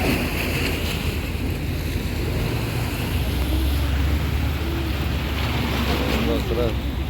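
Large waves surging against a harbour pier where boats cannot dock, a continuous loud roar of water and wind buffeting the microphone, with faint voices in the background.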